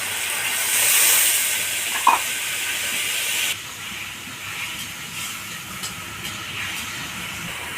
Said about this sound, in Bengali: এবার আমি অল্প জল দিয়ে মশলাটাকে কষে নেব।